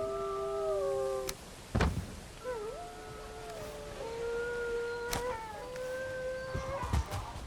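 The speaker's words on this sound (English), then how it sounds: "These are my wolves guarding my pigs." Wolves in the Valheim video game, several drawn-out wavering howls rising and falling in pitch, broken by a few sharp clicks and thumps, moderately close and heard without talk.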